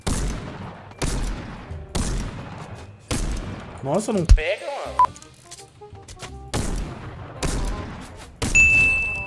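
Gunfire in the Fortnite video game: repeated close bursts of shots in a broken rhythm with short pauses, plus brief pings and thuds, while a player talks excitedly over the action.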